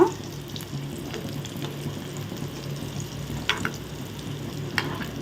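Banana kola balls sizzle and crackle steadily in hot frying oil, a dense close bubbling bed with occasional soft clicks and scrapes as the balls are turned one by one.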